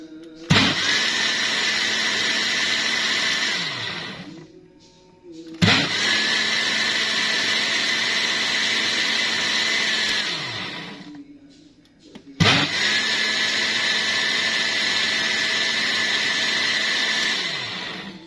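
An electric blender whirs loudly, blending peaches into juice in three long bursts, each starting with a jolt and winding down between runs, close and steady with no talk over it.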